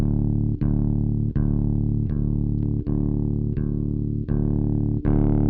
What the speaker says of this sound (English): The other control that the pedal has is this mid boost here.